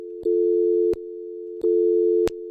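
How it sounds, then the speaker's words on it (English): Telephone tone played over radio station phone lines: a loud, steady electronic hum broken into long on-off pulses, with sharp clicks at each switch, repeating twice with no voices. "I just played the dial tone on every line"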